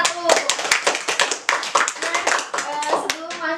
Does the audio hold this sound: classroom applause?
yes